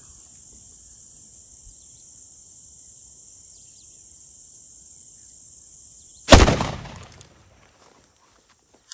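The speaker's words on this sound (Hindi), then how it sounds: "एक फायर हमने किया।" A single sharp gunshot fired at a target outdoors, a loud crack with a short decaying echo, breaking a steady high insect drone; the air stays quiet afterward apart from one faint click.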